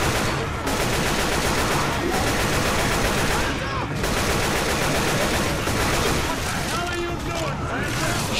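Sustained gunfire in the zombie shooter Left 4 Dead 2, dense and loud bursts of automatic fire filling the whole stretch with barely a pause, voices faintly mixed underneath.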